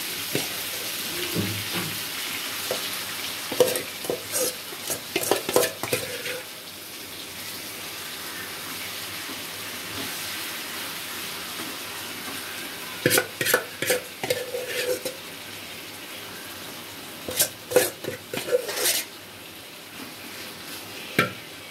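Food sizzling in a pan with no water added, stirred with repeated scraping bursts over a steady close frying hiss, alone without talk.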